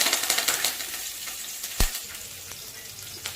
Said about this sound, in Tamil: இது நல்லா வதக்கிக்கலாங்க